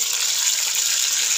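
Brinjal pieces fry in hot oil with a steady, bright, close sizzling hiss that holds evenly throughout without breaks.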